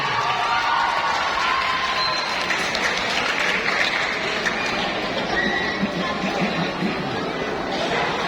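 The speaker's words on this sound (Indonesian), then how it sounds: "Kita beri tepuk tangan yang meriah." Loud, dense applause and cheering fill the hall at the opening of the second Pesparani Catholic choral festival in Makassar, steady and unbroken throughout with crowd chatter mixed in.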